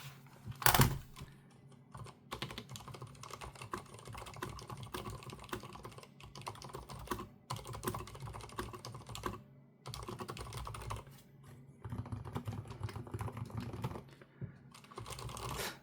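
Keys clack and thud softly on a Leopold mechanical keyboard with silent red switches, a quick irregular stream of muted presses close up, broken by brief pauses and one louder knock near the start.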